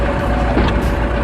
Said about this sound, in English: Blade lowered.